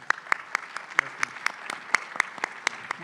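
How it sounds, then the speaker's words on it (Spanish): Sparse, evenly spaced claps ring out at a law-faculty conference after a lecture, a small group clapping in a steady rhythm at moderate distance, with no talk over it. "Un aplauso nuevamente."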